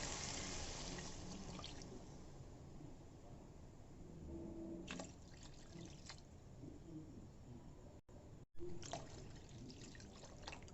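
Water is poured into a pot of rice for mushroom biryani. A faint, steady trickle and splash continues for several seconds, with a couple of brief pauses and a few small clinks.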